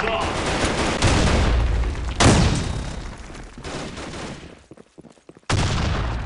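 Dense automatic gunfire in the online shooter BlackShot, loud and close, with rapid overlapping bursts, a sharp blast, then a brief lull before the firing resumes abruptly.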